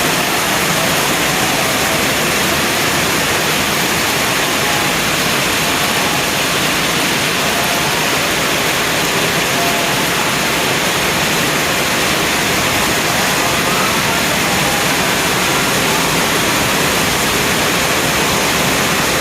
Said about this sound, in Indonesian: Hujannya deras bolo